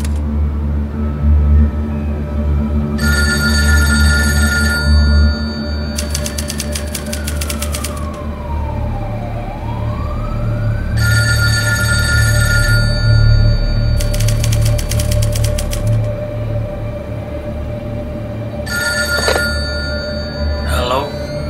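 A telephone bell rings in bursts in a VR installation, with repeated ringing over a low continuous drone and a sliding tone rising and falling in the background.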